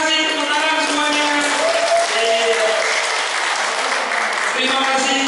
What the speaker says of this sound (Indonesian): Iya, terima kasih tepuk tangan semuanya.